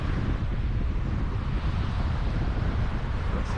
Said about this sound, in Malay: Angin lah, kuat sangat.